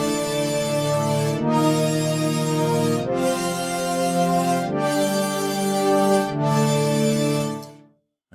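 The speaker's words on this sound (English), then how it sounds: "it's a sample that I sampled into the custom wavetable here from an Alchemy. That's why it's called Alchemy Pad." A dry Alchemy wavetable synth pad in Logic Pro, built from a custom sampled wavetable, plays five sustained chords one after another with brief gaps between them, loud and rich with no effects and no talking.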